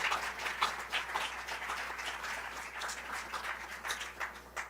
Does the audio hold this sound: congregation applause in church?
yes